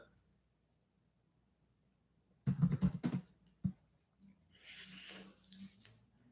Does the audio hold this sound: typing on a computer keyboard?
yes